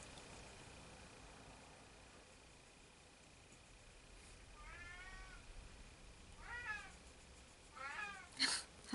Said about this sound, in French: Il se promène dans la maison avec ses jouets dans la bouche, puis il miaule.